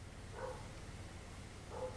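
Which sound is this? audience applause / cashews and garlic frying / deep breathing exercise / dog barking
dog barking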